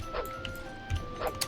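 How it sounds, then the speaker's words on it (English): A few short, sharp dog barks and yips, somewhat distant, scattered irregularly over a quiet background hum. "I think I just set my dog off there."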